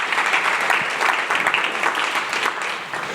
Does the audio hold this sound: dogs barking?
no